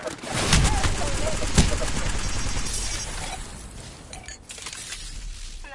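Gunfire crackles in a shooter video game, a dense fusillade of rapid shots with a sharp burst near the start, continuing loud and steady before thinning out toward the end.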